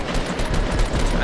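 Rapid bursts of gunfire in the Fortnite video game, a dense rattling volley lasting about a second, loud and close with no talk over it.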